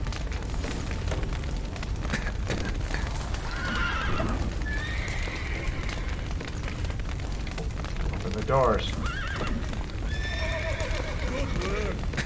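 Horses whinny and hooves clip-clop in a Witcher 3 video game scene of a burning stable, with shouting voices, crackling fire and rumbling booms over a dense, busy mix.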